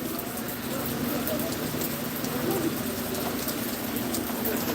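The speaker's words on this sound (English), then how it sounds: "Beautiful rain." Steady rain falls during an outdoor walking tour in the Philippines, a dense, even patter of drops close by, with faint background voices and street sounds mixed in.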